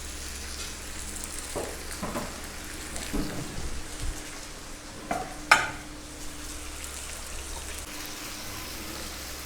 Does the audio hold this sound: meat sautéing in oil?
yes